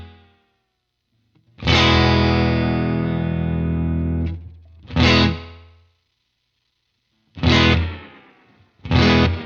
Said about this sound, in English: you can even hear that kind of speeding up sound. That's emulated.